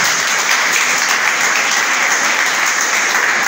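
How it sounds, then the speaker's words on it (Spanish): A church congregation claps together in praise, a loud, continuous, even burst of hand-clapping filling the room for a few seconds with no talk over it. "¿Cuánto da un aplauso al Señor?"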